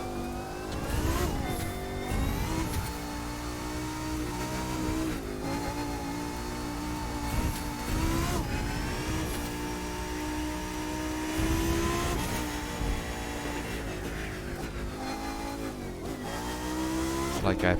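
A Lamborghini races in The Crew 2, its engine revving and shifting in rising and falling surges with tire noise, loud and continuous, while a person talks over it.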